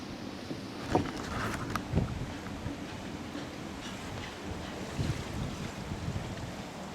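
Surf washing ashore at a busy tourist beach on Bintan Island in the Riau Islands, a steady roar with a few soft breaking swells, blustery wind buffeting the microphone throughout.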